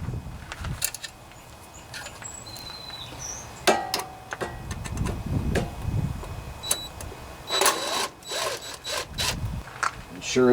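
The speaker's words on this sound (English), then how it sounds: "It sure is nice using that power drill for this." A power drill spins out 8mm bolts from a Kohler Command 20 small engine, in short whirring bursts separated by clicks and metallic clinks of handling, close up and moderately loud.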